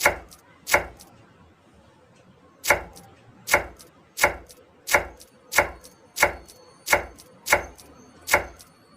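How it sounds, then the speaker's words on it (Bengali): A medium onion being finely chopped with a knife on a board, sharp loud thuds in an irregular run with a pause early, then a steady rhythm of about one chop per half second, close up with no talk. "পেঁয়াজটাকে আরও কুচিয়ে নেবো"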